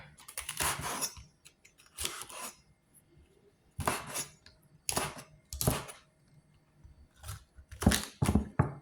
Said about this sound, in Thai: เราก็จะหั่นกระหล่ำนะคะ